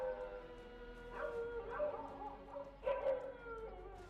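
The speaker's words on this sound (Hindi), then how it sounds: "सन्नाटे को चीरती कुत्तों की आवाजों के साथ" Dogs howl at night in a cremation ground in Ujjain, a few drawn-out, wavering howls rising and falling at moderate distance over a quiet background, with two main swells separated by a short pause.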